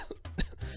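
A few short, harsh coughs come in quick succession, close and fairly quiet, with brief pauses between them.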